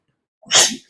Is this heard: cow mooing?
no